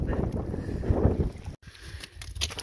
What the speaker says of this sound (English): it's really windy and it's really cold